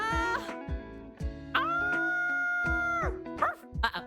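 A person imitates a dog with a run of high yipping barks and a drawn-out howl, close and loud, in several separate bursts.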